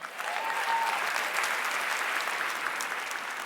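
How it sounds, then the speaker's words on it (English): A conference audience at a women's business event gives a full round of applause, dense steady clapping from many hands. It is moderately loud and continues evenly for several seconds with little speech. "give yourselves a huge round of applause for simply being here"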